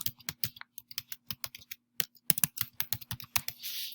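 Quick, crisp keystrokes on a computer keyboard as a file name is typed, irregular bursts of close clicks with a short pause midway and a soft rustle at the end.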